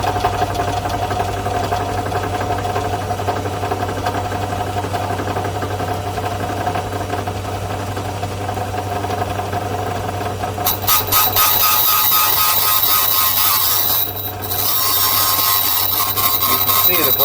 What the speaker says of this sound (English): this little valve is spinning now. Bring the grinding wheel up just to barely touch it